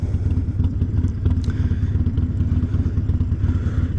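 A motorcycle engine runs close by, its low exhaust chugging in a fast, even rhythm of thumping pulses with light mechanical clatter, loud and continuous throughout.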